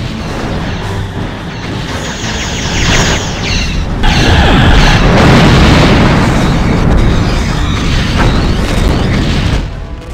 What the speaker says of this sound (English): Simulated enemy ship has been destroyed.